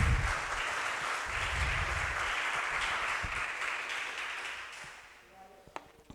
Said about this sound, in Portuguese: Aplauda o nome do Senhor, glória a Deus.